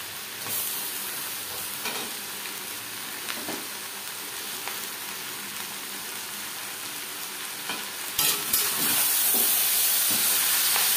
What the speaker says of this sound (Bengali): 4-5 মিনিট পেঁয়াজ ভেজে নেওয়ার পর দিয়ে দেবো ম্যারিনেট করে রাখা